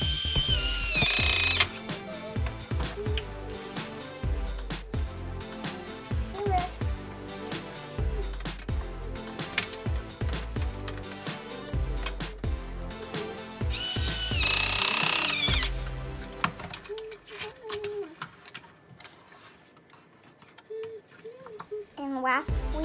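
Screws are driven into a toy race car kit with a ratcheting tool, producing repeated close clicking and grinding bursts with brief pauses, continuing under light talk before fading near the end.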